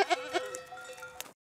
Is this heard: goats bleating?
yes